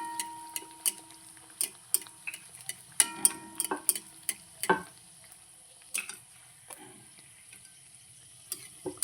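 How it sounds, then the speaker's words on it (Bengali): Rajasthani-style onion kachori frying one by one in oil on low heat, giving a quiet, sparse crackle with scattered sharp pops and ticks, with no talking. "এবার আমি এক এক করে কচুরিগুলো তেলে ছেড়ে দিচ্ছি তেলটা বন্ধুরা খুব একটা গরম থাকবে না লো হিটে আস্তে আস্তে করে ভাজতে হবে"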